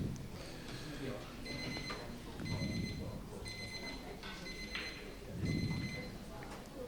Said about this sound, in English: You just hear the buzzer going off in the background for the first ladies matches.